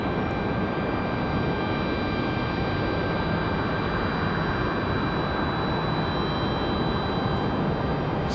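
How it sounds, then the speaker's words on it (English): A Delta airliner touches down on the runway at Raleigh-Durham International, a steady broad roar of jet engines with a continuous rushing wash and faint high whine throughout, no voices. "Smooth touchdown for the Delta."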